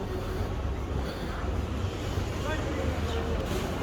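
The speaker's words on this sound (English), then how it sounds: "I can hear the tractor behind me." A tractor engine runs nearby at a steady, continuous drone, with wind buffeting the microphone outdoors.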